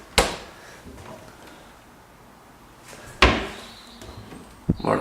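Kitchen cupboard doors in a flat with a fitted kitchen, opening and closing in two sharp, close knocks several seconds apart, with a softer bump near the end and quiet room tone between.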